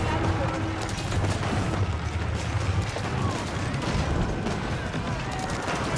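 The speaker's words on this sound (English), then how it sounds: "Muhodo guns getting some good damage there." Malian Muhodo gunners firing in the strategy game Age of Empires 4, a steady crackle of gunshots within a busy, dense battle din that never lets up.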